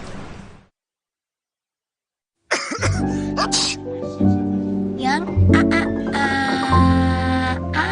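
Coughing in an Indonesian advert for Siladex Flu medicine: a brief cough at the start, a pause of silence, then a clear voice with music and sound effects following, loud and close.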